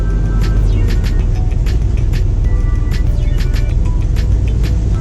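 A car with a newly installed clutch slave cylinder pulls forward at low speed, its engine giving a steady, loud rumble throughout with no pauses.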